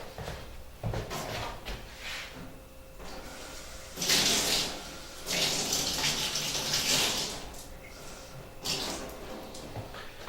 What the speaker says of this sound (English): I'm going to need a little bit of water, clean water.